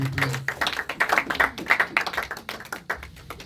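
A church congregation claps to acclaim the Lord during a Sunday service, a burst of many hands in quick, uneven rhythmic claps, close and lively, tapering off toward the end.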